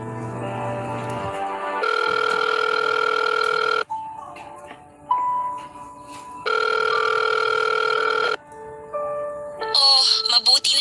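A telephone rings for an incoming call in two long, loud electronic bursts separated by a pause, with brief beeps and other short sounds between them.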